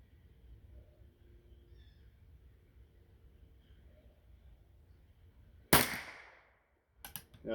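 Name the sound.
gunshot from Remington #4 rolling block .25-10 rimfire rifle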